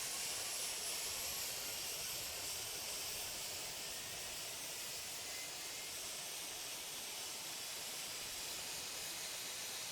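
Airliner jet engines at LaGuardia Airport in the Tower Simulator 3 video game, a steady broadband roar and hiss that holds evenly throughout, with no talk over it.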